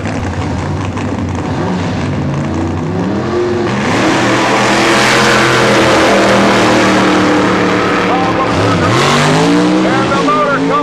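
A super stock drag racing car accelerates hard down the drag strip at Norwalk Raceway Park, a loud, close engine roar rising and surging throughout while an announcer talks over it.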